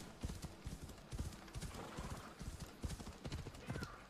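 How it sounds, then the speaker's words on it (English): Horse hooves clip-clop in a steady trotting rhythm in Assassin's Creed Odyssey over rocky ground, close and clear, with faint game ambience and an occasional horse snort beneath. "Can my horse come too?"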